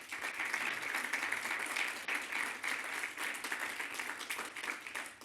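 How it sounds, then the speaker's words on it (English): An audience gives a panel discussion a sustained round of applause, even and continuous clapping heard from within the room, fairly faint and without voices. "I'd love to give our panel a huge round of applause."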